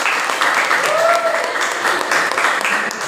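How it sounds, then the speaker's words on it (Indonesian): Schoolchildren in a biology classroom clap together for a group's answer, a dense, steady patter of many small hands that fills the room at close range for the whole stretch. "Bisa tepuk tangan anak-anak jawabannya"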